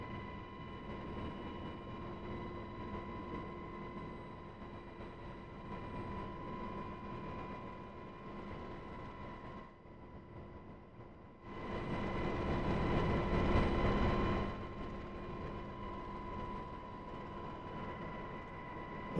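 A UH-60L Black Hawk helicopter taxis in the DCS flight simulator with a steady turbine whine and rotor drone, rising into a louder surge midway before settling back.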